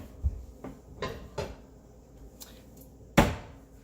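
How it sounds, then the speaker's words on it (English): A metal pan is handled and set down on a kitchen stove, giving several sharp clanks spaced irregularly, the last and loudest knock landing near the end against a quiet background. "I'm going to prepare the pan"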